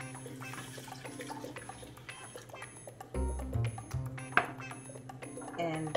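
Water poured into a pot holding flax seeds to make gel, a brief close splash and trickle of liquid in a quiet kitchen.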